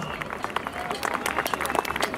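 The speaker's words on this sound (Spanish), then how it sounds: "Fuerte los aplausos." An audience claps at a band show event, scattered applause rising in a brief burst of sharp, uneven hand claps with crowd noise.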